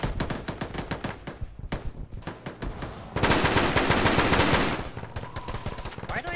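Gunfire in the military video game ArmA during a ShackTac session, with dense rapid automatic bursts, then a louder, heavier stretch of sustained fire, then more bursts.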